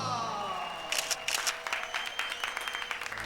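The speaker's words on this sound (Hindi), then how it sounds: "अरे काम हुआ नहीं, ताली बजा दी।" A small group claps at a press conference: scattered, uneven hand claps start after a second and continue in short bursts at moderate volume, with no talking over them.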